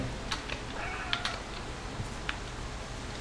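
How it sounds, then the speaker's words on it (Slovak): A cat in the video game Stray gives a drawn-out meow amid scattered clicks and taps, moderately close, with no voices. "A zde išli kocúry, ja musím ísť za kocúrmi."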